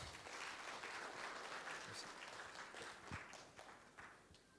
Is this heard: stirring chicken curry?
no